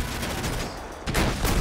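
Rapid bursts of gunfire in GTA 5 Zombie mode, loud and dense, rattling in quick volleys with a sharper cluster of shots near the end, no voices.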